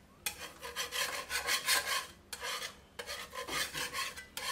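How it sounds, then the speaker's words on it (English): A metal scraper rasps across the stainless-steel-infused aluminium plate of a Rutland grill, pushing grease toward the fat tray in repeated strong rubbing strokes, close and loud, with brief pauses between passes. "Removing dirt and grease is as simple as scraping down."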